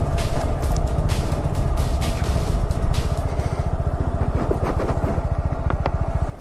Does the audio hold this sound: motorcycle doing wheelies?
yes